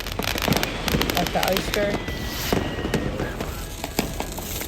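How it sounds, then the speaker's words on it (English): New Year fireworks in Hamburg crackle and pop all around in a dense, continuous barrage, with scattered sharper bangs, while people talk nearby over the celebration. "Fireworks are everywhere."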